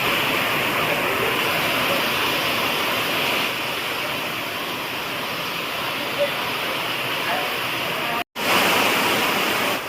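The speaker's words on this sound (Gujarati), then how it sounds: "વરસાદ ચાલુ થઈ ગયો છે ધોધમાર" Heavy rain pours steadily over a farm field behind a house, a dense, loud, continuous hiss with no breaks apart from a brief dropout near the end.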